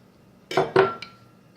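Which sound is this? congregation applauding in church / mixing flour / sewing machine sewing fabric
mixing flour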